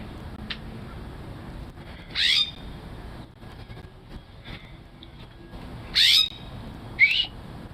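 A small bird gives three short, high chirping calls spaced a few seconds apart, clear over quiet outdoor background hiss.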